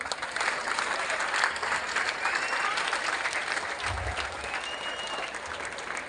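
An audience at a college festival claps steadily, with dense, sustained applause holding at an even level throughout.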